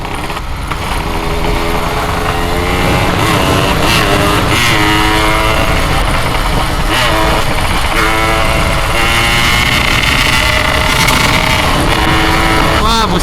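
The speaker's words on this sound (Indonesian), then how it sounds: "Nembak-nembak knalpotnya tadi." A Yamaha RX King motorcycle with a misfiring spark plug and popping exhaust revs loudly and continuously at close range, its engine note rising and falling throughout.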